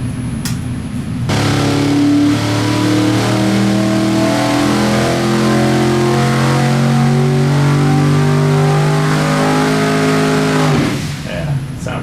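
A turbocharged flex-fuel car engine revs hard and holds high, steady rpm for about ten seconds before dropping off, loud and close, with no other sounds over it.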